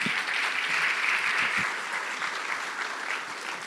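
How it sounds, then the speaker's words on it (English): Warm, continuous audience applause fills a national grand final event, a thick, even roar of clapping with a few louder claps near the front, fading gradually. "Give them a round of applause."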